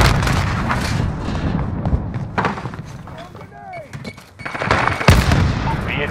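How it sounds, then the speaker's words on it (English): A grenade explosion in Call of Duty Modern Warfare team deathmatch, a sharp close blast amid ongoing gunfire, thuds and battle chatter, with in-game voices talking over the combat. "Grenade out!"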